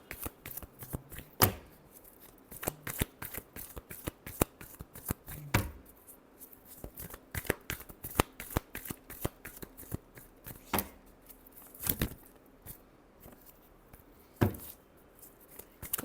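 Tarot cards being shuffled in a deck, a long run of crisp riffling flicks and soft slaps repeating in bursts, close and clear with no talking.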